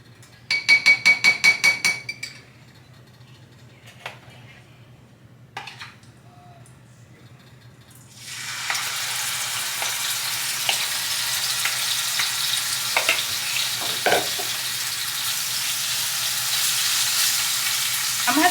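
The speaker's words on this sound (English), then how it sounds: "we're going to add the marinated chicken, and then we're going to have to stir this quickly" Marinated chicken for butter chicken hits a hot stovetop pan, a loud steady sizzle of frying that starts about halfway through and continues to the end, with scraping stirs and clinks of utensils on the pan. Before it come brief rattles and clatter, with no talking.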